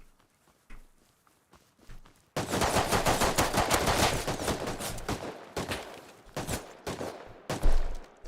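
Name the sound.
gunfire in a shooter video game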